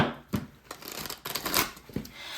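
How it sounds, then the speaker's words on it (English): A tarot card deck being shuffled, with soft riffling and several sharp card snaps spaced unevenly over a quiet background, close to the listener. "So I'm gonna shuffle the deck here."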